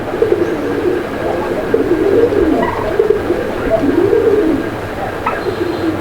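Big pigeons kept for sale coo in low, wavering repeated calls against a constant noisy backdrop, close and fairly loud, with occasional faint voices.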